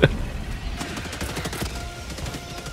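Rapid automatic turret gunfire rattles in a chaotic video game battle, a dense burst of shots sustained for a few seconds after a sharp opening crack.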